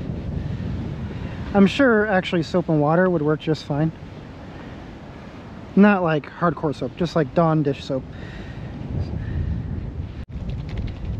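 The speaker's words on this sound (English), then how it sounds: "this wind is really picking up" Strong outdoor wind gusts buffet the microphone around a Ford Bronco with a Bestop Skyrider top, a steady low rumble that swells and fades, running beneath someone talking and continuing on its own between his sentences.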